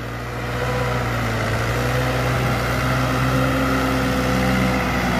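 A New Holland 7500 tractor hauling a full trailer load of manure on a farm, its engine running with a steady low diesel drone and rumble throughout, fairly close and without talk.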